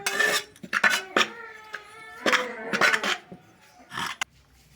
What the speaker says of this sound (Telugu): వీటన్నింటిని బాగా మిక్స్ చేసుకోవాలి